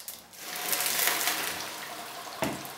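Water poured onto dry ice, a broad rushing hiss that swells over the first second and slowly fades, with a brief bubbling knock near the end.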